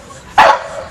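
A dog gives a single loud, sharp bark at close range during bite training for decoy work, over a low steady background.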